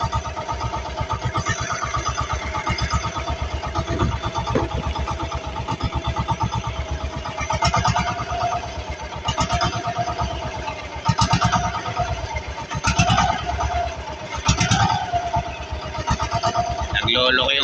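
An aging engine on a small crab-fishing boat runs unevenly, with a close, steady low chugging broken by irregular surges and pulses that continue throughout.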